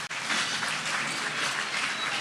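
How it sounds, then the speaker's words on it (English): Audience applause at the fourth Enugu Diocesan Synod, a steady, dense roar of many hands clapping that fills the hall evenly and continuously, with no talk over it. "Please, a round of applause to the governors."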